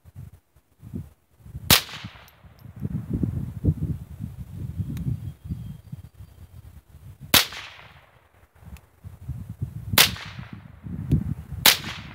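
Ruger 10/22 rifle firing from a BX-25 magazine loaded with Fiocchi, Super X and Remington rounds, four sharp loud cracks spaced seconds apart, with rustling and handling noise between shots.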